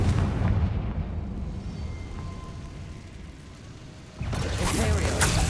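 A Confringo fire spell explodes in the Hogwarts Legacy video game with a heavy booming blast that rolls off, then a second sharp burst of impact near the end.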